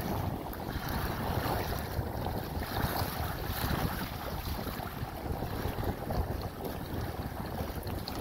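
Steady wind noise rushes over the microphone while a Hobie Outback kayak is pedaled against the wind on open water, a dense continuous roar with faint water wash beneath and no talking.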